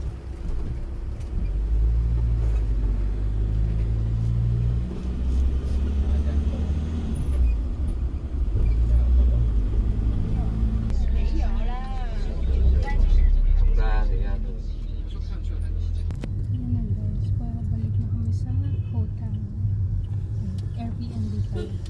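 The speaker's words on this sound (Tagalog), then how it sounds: "Ito yung aming kotse." Inside a moving car, a low steady engine and road rumble persists throughout while people talk over it.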